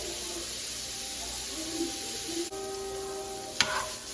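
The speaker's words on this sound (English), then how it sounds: "Now we have our meat browning and going." Meat browning in a pan with salt and Italian seasoning for a spinach lasagna, a steady close hiss and sizzle throughout, with a faint scrape near the end.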